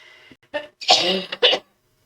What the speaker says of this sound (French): On est marre de cette toux